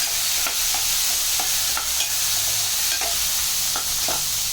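Tomatoes sautéing in a pan for sambar give a steady, dense hiss of frying, with soft periodic scrapes of a spatula stirring; no voices.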